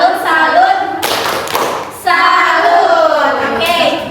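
A classroom of pupils performs a rhythmic clapping chant, loud sharp claps and thumps bursting out between stretches of voices chanting together, close to the listener.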